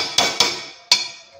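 Three sharp metallic clanks ring out one after another as a lid goes onto a cooking pot of drumstick curry, each knock loud and close with a short bright decay and no talking.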